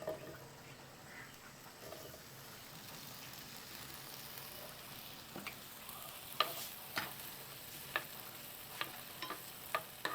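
Paneer drops into hot oil for a paneer curry, making a quiet, low sizzle that grows busier, with sharp crackling pops spattering more often toward the end.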